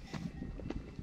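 Hooves of a mare and her foal clop softly as the horses walk on a hillside ridge trail, a few uneven, fairly distant steps with no talking.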